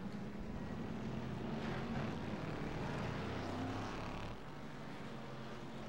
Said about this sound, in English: Corvette zipping around through the S's.